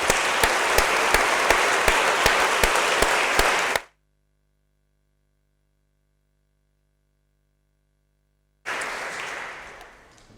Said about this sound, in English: So then, once more, a round of applause in preparation of what we expect.